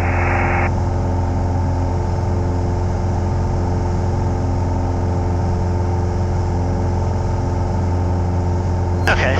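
A light aircraft engine runs at full power for a go-around on a cloudy bad-weather circuit, a steady loud drone holding throughout with a constant low harmonic hum.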